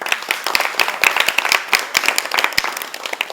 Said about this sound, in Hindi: सभी लोगों के लिए जोरदार तालियां।